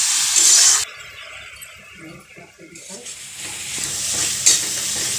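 Masala sizzling in a pan as water is poured in during home cooking of a curry, a loud hiss at first that drops to a softer simmer, with someone speaking over it before the sizzle swells again.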